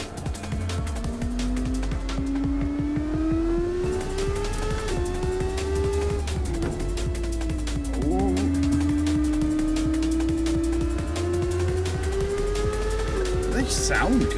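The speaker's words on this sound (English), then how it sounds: "This is an F1 sound, and it's got the grip of an F1." A high-revving F1 car engine in a video game whines continuously, pitch rising and falling through gear changes, with a voice talking over it now and then.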